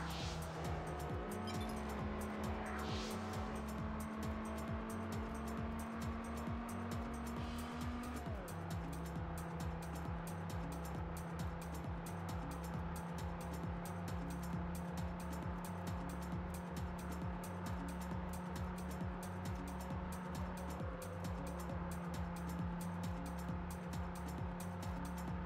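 Steady racing car engine drone in the Test Drive Unlimited video game, holding a constant pitch with a couple of gear-shift drops, plus faint tire noise, continuous and alone for the whole stretch.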